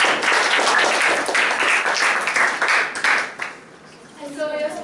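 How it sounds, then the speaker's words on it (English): Audience applause at a speech evaluation session, dense clapping filling the room for about three seconds before fading out, then speech follows. "let's give a big round of applause to Joel for successfully completing his speech"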